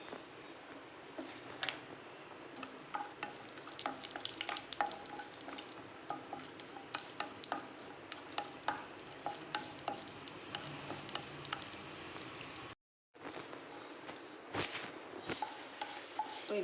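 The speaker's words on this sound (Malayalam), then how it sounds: "അപ്പോൾ ഇനിയൊന്ന് നമുക്ക് വറുത്തെടുക്കാം." Pieces cut for egg biryani fry in a pan, giving sparse close crackles and soft sizzling pops with a light scrape of stirring, faint overall and cut by a brief silent gap near the end.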